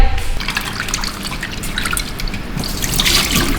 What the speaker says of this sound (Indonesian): Kita cuci di air mengalir dulu.